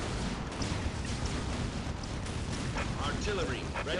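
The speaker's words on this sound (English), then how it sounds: "Armageddon pattern basilisks providing a lot of firing support here" Armageddon-pattern Basilisk artillery fires in a Dawn of War 3 vs 3 battle, a dense, continuous roar of booming shots and blasts, with a voice rising over it near the end.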